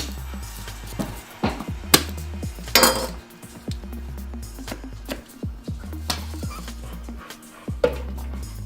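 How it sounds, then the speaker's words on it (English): A knife chops onion and garlic roughly on a cutting board for chili, a close, uneven run of sharp thuds and knocks with occasional clinks, no talk over it. "I take my onion and I just give it a real rough chop"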